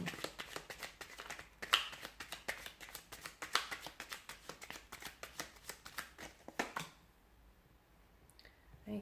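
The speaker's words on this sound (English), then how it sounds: "let's give the cards a shuffle" A deck of tarot cards being shuffled by hand, a rapid series of sharp riffling snaps and flicks repeating close up for several seconds before stopping, leaving quiet.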